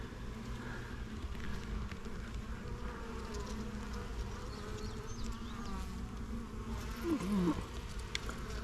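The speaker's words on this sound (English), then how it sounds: "Some bees." Bees buzz steadily around a newly established hive, a continuous low hum of many insects close by, with a single bee droning louder as it passes near the end.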